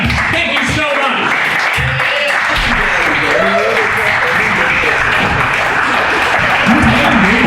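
A crowd applauds a comedy act, the clapping loud and sustained throughout, with a few voices and a cheer mixed in over it.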